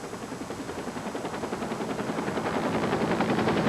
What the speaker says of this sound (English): The National Guard had an infrared helicopter come in to assist us on this search.